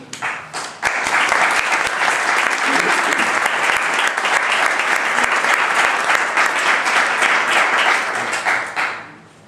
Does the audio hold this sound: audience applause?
yes